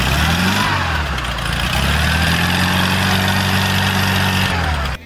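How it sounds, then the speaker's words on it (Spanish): A Volkswagen Beetle (vocho) engine runs close and loud, holding a steady low drone. The pitch dips and recovers as the clutch engages between gears, with turbine-like whine and engine braking, then cuts off abruptly. "el sonido que hace la turbina cuando se embraga de una velocidad a otra"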